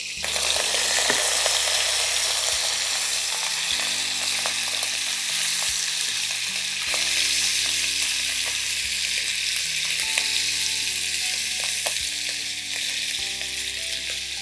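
Hilsa fish fries in hot oil, a loud, constant sizzling hiss with crackles, broken by a few low bumps and shifts as the fish is turned over partway through, no speech.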